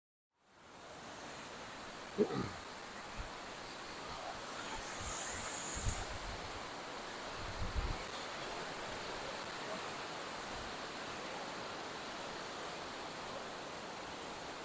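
The waterfall at Adams Canyon gives a steady, broad roar of rushing water close by that fills the whole stretch, with a few faint knocks early on.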